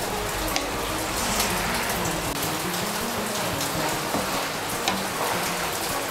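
Mixed vegetables are stirred with fried spices and chopped coconut in a hot pan for labra, giving a dense, even sizzling hiss throughout with faint scraping under it.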